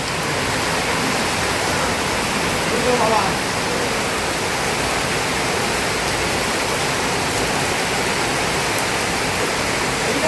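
Heavy rain pours steadily as a dense, even hiss for the whole stretch, loud and close, with a brief word spoken faintly partway through.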